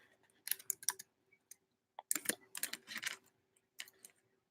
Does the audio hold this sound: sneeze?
no